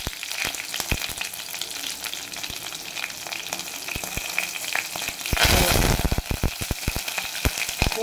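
Spices for tempering rasam, including urad dal, dried red chillies and a green chilli, crackle and sizzle in hot oil with sharp popping bursts, and the frying swells louder partway through.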